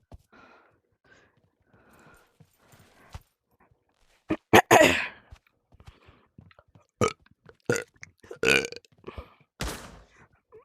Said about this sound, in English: I burped twice